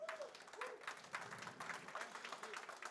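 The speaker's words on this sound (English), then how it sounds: "let's get a round of applause for the organizers." Audience applause for conference organizers at a regional WordCamp, a moderate patter of clapping running steadily throughout, with a faint voice sliding in over the top at the start.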